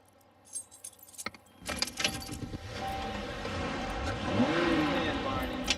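Car keys jangle as they are handed over beside a car whose ignition switch is being replaced: a few bright metallic clinks up close, followed by a car engine rising into a steady, loud rev that fills the rest.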